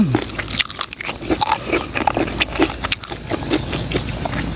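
Crunchy pork rinds are bitten and chewed close up, giving a quick run of sharp, brittle crunches and crackles in an irregular rhythm.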